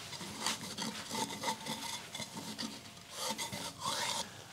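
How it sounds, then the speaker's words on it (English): Wood shavings being cleared from a lathe during the turning of an open vase, heard as a steady dry rasping and rubbing with short scraping bursts, close by and with no talk. "I'm just going to stop and clear the shavings."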